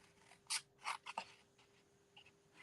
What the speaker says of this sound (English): I'm just going to use my scissors and I'm going to cut these letters out.